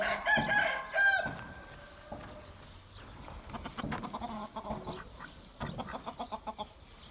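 A rooster, kept in cages with hens and pheasants, crows loudly twice near the start. Softer clucking and fowl calls follow in a choppy, rhythmic run.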